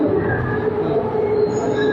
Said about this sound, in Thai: ก็รถไฟมา